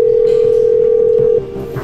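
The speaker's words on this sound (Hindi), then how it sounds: "अभय ने मिहिका को फोन किया।" A steady, loud phone tone holds for over a second, then drops and shifts, with faint background noise and no voices.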